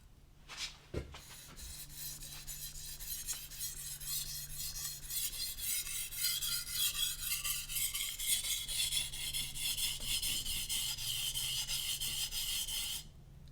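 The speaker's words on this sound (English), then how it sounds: "Now I'm gonna flip the knife over and start the process all over again." Steel knife blade scraped repeatedly across a sharpening surface, a steady run of gritty rasping strokes after a sharp knock near the start, fairly close and continuous with no talk.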